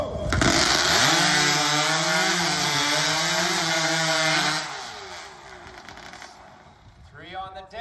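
A chainsaw roars at full throttle as it rips through timber in a lumberjack competition, loud and sustained for several seconds before dropping away, with the engine's pitch wavering under load and a crowd and announcer audible faintly behind.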